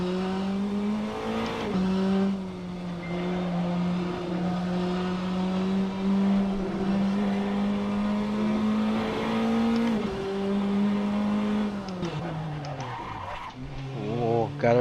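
A race car in a racing video game drones steadily as it heads into the pits, its engine note holding level, then dropping and wavering as it slows near the end.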